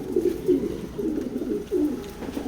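A big male pigeon of a foreign racing line coos close by in a loft, a string of low, rolling coos repeating every half second or so.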